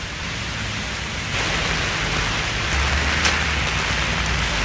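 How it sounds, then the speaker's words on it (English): Heavy monsoon rain in Korea pours steadily, a dense broadband hiss that swells slightly louder partway through, with no voices. "It's raining a lot."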